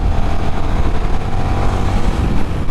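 Large, heavy motorcycle of about 200 kg, roughly 390-class, cruising on the road: a loud, close, continuous engine roar with rough low rumble and steady throttle, mixed with wind noise, no voices.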